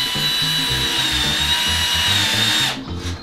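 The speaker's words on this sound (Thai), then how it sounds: "เล็งเข้าแนวกลางแผ่นนะครับแล้วก็ยิงน็อตตัวกลางก่อนครับ" A power drill whines steadily as it drives screws into a bathroom ceiling panel, a close, loud continuous run that cuts off near the end.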